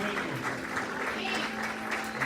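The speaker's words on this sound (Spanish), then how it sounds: "Denle un aplauso al Señor." Congregation applauding in a religious gathering, a steady, dense wash of clapping hands that holds even and fairly close throughout with no break.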